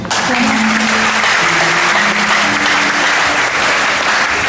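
A congregation claps loudly and continuously during a church service, a dense, sustained wash of applause with a voice rising briefly over it.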